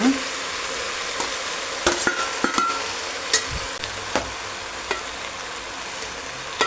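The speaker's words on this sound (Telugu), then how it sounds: "ఇప్పుడు టమాటాలు ఇలా వేసుకోవాలి. టమాటాలు కూడా కొంచెం వేగాలన్నమాట." Tomatoes frying in a pan for a broad bean curry, a dense loud sizzle broken by regular sharp stirring scrapes and taps of a spoon, close up.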